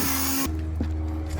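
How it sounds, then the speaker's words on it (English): A power drill boring pilot holes in wood, a short whirring burst that drops in pitch as the bit bites, heard close and alone. "Now we're going to make some pilot holes to screw the sides on."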